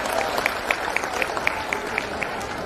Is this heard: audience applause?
yes